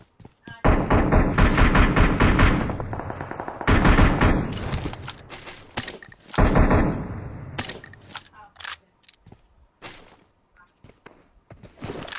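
Bursts of in-game gunfire from PUBG Mobile, loud rapid volleys separated by pauses, with thumps and footstep-like clatter and people talking over it.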